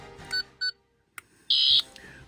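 A Fourteenth Doctor sonic screwdriver toy from Doctor Who gives a few short electronic beeps, first two brief bursts, then after a click a louder sustained tone lasting about a quarter second, close and alone.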